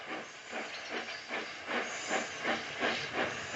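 A model steam engine from an HO/OO layout hisses and chuffs in a rhythmic series of about ten puffs, each a hissing burst of steam at an even, brisk pace.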